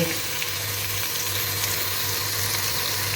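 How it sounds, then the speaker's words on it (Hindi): Onions fry in cooking oil in a pan for a potato and eggplant curry, giving a steady, close, even sizzle and hiss throughout, with a low hum beneath. "प्याज लेके उसके अंदर तकरीबन दो डोई कुकिंग ऑयल के डाल के मसाला बनने के लिए प्याज़ों को फ्राई होने के लिए रख दिया है"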